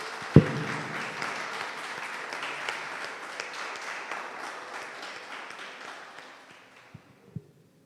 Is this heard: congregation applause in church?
yes